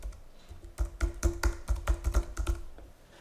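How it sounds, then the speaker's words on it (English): Fingers type a command on a computer keyboard in a quick, uneven burst of close key clicks and taps, with a short pause at the start and a softer trailing keystroke at the end. "We'll type the command into the request field"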